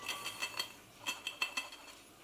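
A pasta spoon fork stirring a salad of carrot, courgette, celery, apple and walnut in a bowl: a quick series of faint, light clinks and taps, close by, with no voices.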